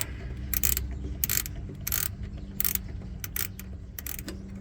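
A socket ratchet works a 10mm nut on the starter of a 2010 Ford E350 5.4L. Several short, close bursts of rapid clicking come with pauses between them, and no one speaks.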